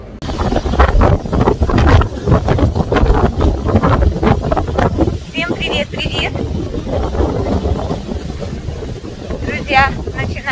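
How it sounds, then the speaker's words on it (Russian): Gusty wind in Eilat buffets the microphone in a steady roar, mixed with water and boat noise, while people talk nearby. "поднимается ветер."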